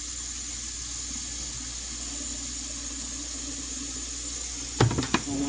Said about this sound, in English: you're going to want a little water in here